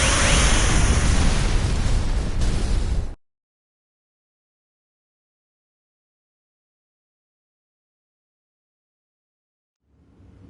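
A large explosion in the video game Star Ocean roars as a loud, dense burst of noise for about three seconds, then cuts to silence before faint rumble returns at the end.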